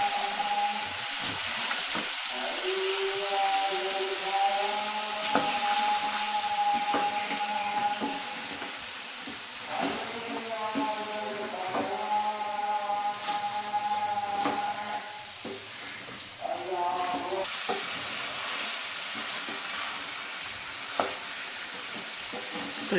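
Cauliflower and chicken frying in a pan give a steady loud sizzle throughout, while a spoon scrapes and stirs through the pieces in irregular strokes close by.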